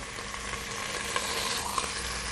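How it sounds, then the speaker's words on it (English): Meat searing in a hot pan: a dense, continuous sizzle heard up close with a couple of small pops, no talking. "I'm going to turn it around and sear the next side of it."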